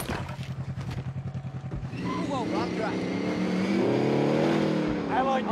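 A game car's engine revs in a pulsing rhythm and then pulls away in a steady drone, with someone talking over it for most of the stretch.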